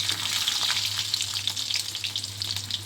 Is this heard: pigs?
no